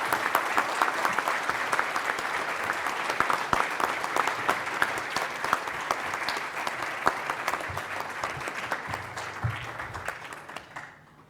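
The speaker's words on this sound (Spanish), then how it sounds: "aplauso al ingeniero José Luis Nava" A conference audience claps for an engineer being introduced, many hands in sustained, even applause with sharp individual claps poking through, tapering off near the end.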